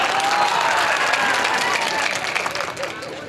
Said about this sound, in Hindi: बात पहुंचाओ तो एक बार जोरदार ताली उठाओ साहब।